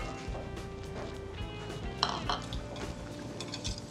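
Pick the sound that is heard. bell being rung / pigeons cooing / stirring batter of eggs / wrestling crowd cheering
stirring batter of eggs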